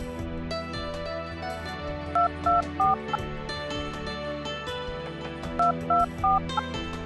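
Two short bursts of phone keypad tones, three beeps each, play over steady background music.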